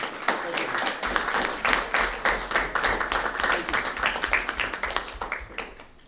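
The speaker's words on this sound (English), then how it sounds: "please big applause to" A room of people at a bridge tournament session breaks into brisk applause, with individual claps audible in a lively rhythm that swells and then tapers off toward the end.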